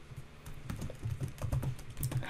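Keys clatter on a computer keyboard as C++ code for a struct is typed, quick irregular bursts of close, crisp clicks with short pauses between them.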